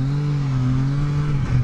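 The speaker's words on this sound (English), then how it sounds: "Doing a little drifting." A Can-Am Spyder three-wheeled motorcycle engine drones loud and close while drifting, its pitch holding steady and then wavering slightly as the revs shift.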